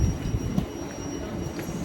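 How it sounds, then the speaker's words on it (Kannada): A passenger train travelling toward Graz, Austria, gives a steady low rumble of rolling wheels and carriage noise, heard from inside the car with no talking. "ಈ ಟ್ರೈನ್ಗೆ ಇವಾಗ ಗ್ರಾಸ್ಗೆ ಆಲ್ಮೋಸ್ಟ್ 40 ಮಿನಿಟ್ಸ್ ಹೋಗಬೇಕು."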